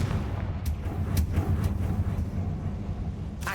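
Confringo spell blasts in the video game Hogwarts Legacy: several short booming explosive bursts in quick succession over a dense rumbling backdrop.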